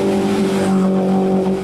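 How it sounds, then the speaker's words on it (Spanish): Four-cylinder autocross race car accelerating on a wet course, its engine holding a loud, steady multi-tone drone close by, with no voices. "Sigue ahí el Joseph acelerando."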